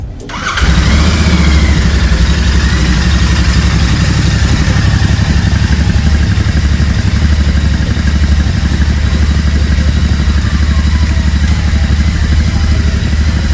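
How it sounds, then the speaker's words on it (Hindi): A 2024 Royal Enfield Continental GT 650 twin-cylinder motorcycle cranks and fires, then settles into a loud, steady, deep idle heard up close, with no talking. "चलिए अब बाइक को स्टार्ट करते हैं एंड सुनाते हैं इसकी आवाज़ को।"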